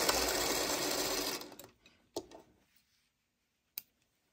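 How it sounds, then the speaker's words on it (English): Sewing machine stitching quilt block pieces of background squares and print, a fast continuous run of needle clatter for over a second, then stopping, followed by a few isolated clicks. "Might as well be doing that bonus sewing"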